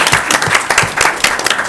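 A board of education meeting audience breaks into loud, dense applause, many hands clapping together in a steady burst that fills the room.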